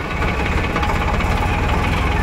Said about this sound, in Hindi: देखिए ट्रैक्टर लेकर हम चल रहे हैं वहाँ पर